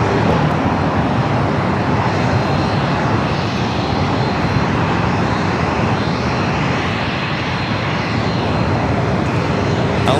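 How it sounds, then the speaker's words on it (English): An Airbus A380 takes off at LAX, a loud continuous roar of jet engines that stays steady and heavy for the full ten seconds with no pauses. "That is the A380 Super heading up for north side at takeoff."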